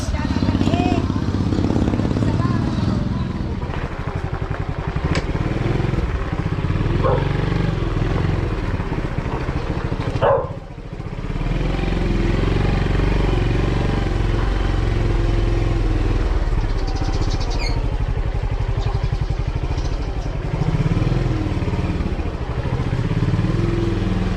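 Suzuki car engine droning steadily while driving, with road rumble and a brief dip midway, under lively conversation from people in the car.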